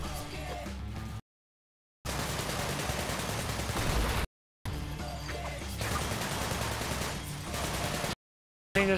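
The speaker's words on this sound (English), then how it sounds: "Just keep shooting randomly!" Rapid gunfire in the video game Sunset Overdrive, loud dense bursts of shots and crashes broken by short silent gaps, repeating over several seconds.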